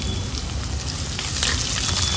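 Chopped onion fries in hot oil inside a clay pot, a steady dense sizzle and crackle running close and continuous throughout, with no voices.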